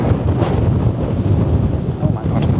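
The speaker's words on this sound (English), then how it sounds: "Oh my God, and it's windy." Strong wind buffets the microphone on steep outdoor stairs near a remote airport, a loud, constant roaring rush with gusty surges throughout and no clear talking.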